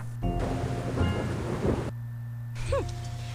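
Steady rain with rumbling thunder in the ruined, rain-drenched Civil War–era village of the Cluefinders 5th Grade Adventures game, a continuous downpour hiss with low rolls, a brief lull near the end and a tonal game sound.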